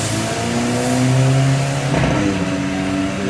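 Stock Volkswagen Golf GTI MK7 engine, fitted only with downpipe, diffuser and filter, revs hard during a pull, rising harmonics climbing steadily and loud, close up, with no talking.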